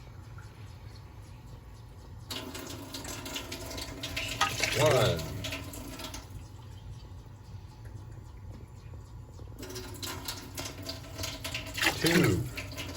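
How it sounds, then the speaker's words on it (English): Canned water is poured into a pot of Italian sugo sauce, two long splashing pours with a steady rushing texture over a low background rumble. A brief spoken word comes between them. "we put 3 cans of water"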